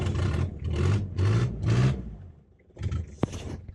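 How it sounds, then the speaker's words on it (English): A car with a damaged exhaust revs hard in four loud, rasping bursts like a racing engine, then a brief lull before a softer rev, close by on a rural Portuguese homestead. "this sounds a little bit like a racing car without the performance"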